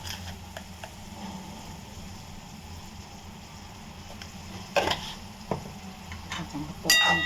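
Cleaned crabs frying in hot oil in a pan with salt, stirred with a utensil: a low steady sizzle runs throughout, with occasional scraping and clinking of the spoon against the pot, no voices over it.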